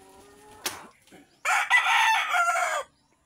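A rooster crows once, loud and close, a long strained call with a brief clucking sound just before it.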